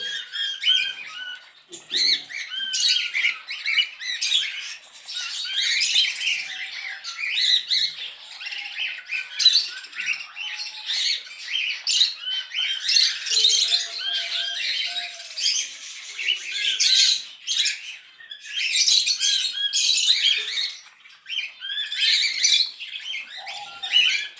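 Budgerigars chirp and chatter continuously near bird feed, a dense, busy stream of high twittering calls from several birds, close and steady throughout.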